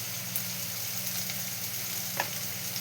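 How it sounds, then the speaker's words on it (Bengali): Mushrooms sizzle and fry in a pan with spices while being stirred, a steady close crackle with a few sharper scrape clicks and no speech. "দিয়ে দিচ্ছি এখন মাশরুমগুলো। একটু নাড়াচাড়া করতে হবে ভালো করে"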